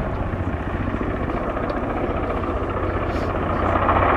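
A Swiss Air Force Eurocopter AS-532UL Cougar Super Puma (TH98) helicopter at a flying display, its turbine and rotor roar steady and loud throughout, building slightly toward the end.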